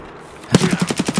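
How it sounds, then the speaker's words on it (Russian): A rapid burst of gunfire in Escape from Tarkov, about seven sharp shots in quick even rhythm following a brief quiet moment. "Что за выстрелы?"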